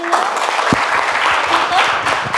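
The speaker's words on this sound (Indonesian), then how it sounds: "Kasih aplaus buat kelompok 3 dulu" Group 3 gets a round of applause in a classroom, a dense patter of clapping hands filling the whole short stretch at steady loudness, with voices mixed in beneath it.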